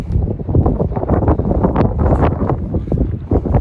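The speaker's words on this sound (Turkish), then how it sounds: "Biraz esiyor, ferahladık, iyi oldu." Strong gusty wind buffets the microphone atop Gaziantep Castle, producing loud, uneven rumbling bursts with no talk.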